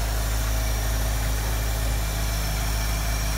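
A 1973 Ford Mustang with a 302 V8 and two-barrel carburetor idles steadily, a loud, even low rumble with a faint high whine, running alone without voices.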